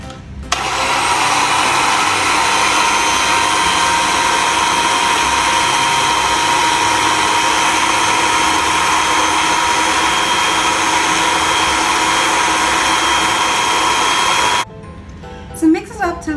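Blender whizzing keto mayonnaise ingredients, a steady loud motor whir running unbroken for about fourteen seconds before cutting off abruptly, with a few faint clicks after.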